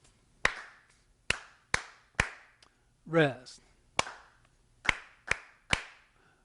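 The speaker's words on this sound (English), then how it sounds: "Let's try clapping that together." Sharp hand claps sound in a steady rhythm, several evenly spaced with a brief gap, while a voice speaks once in the middle, during a piano workshop lesson.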